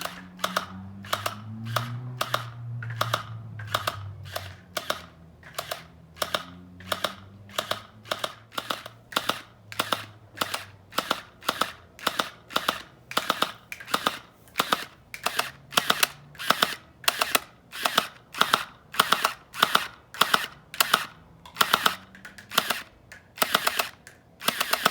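A gel ball blaster fires at a target in a long, steady string of crisp, snappy shots, evenly spaced about twice a second. The shots are close and distinct, with a voice speaking briefly early on.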